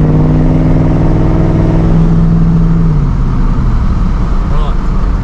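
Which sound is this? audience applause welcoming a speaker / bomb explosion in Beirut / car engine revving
car engine revving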